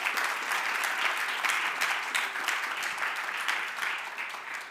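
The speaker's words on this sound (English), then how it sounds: "Great round of applause." An audience at a land transport panel applauds the panelists, with a steady, dense wash of clapping from many hands throughout, fairly distant and gradually easing toward the end.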